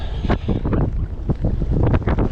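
Strong wind whips across Greenbo Lake during December kayak trout fishing, roaring in loud, close gusts that buffet continuously with surging bursts.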